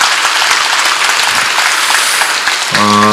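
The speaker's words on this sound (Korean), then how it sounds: "그 큰 스님들, 법문해 주신 큰 스님들께 감사의 큰 박수를 한번 보내주시기 바랍니다" A crowd at a Buddhist dharma assembly at Bongeunsa temple gives a big round of thanks to the monks who delivered the talks, a loud, even wash of clapping that fills the stretch, joined near the end by a sustained tonal sound.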